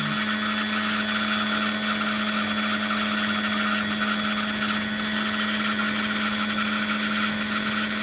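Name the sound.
saw slicing opal rough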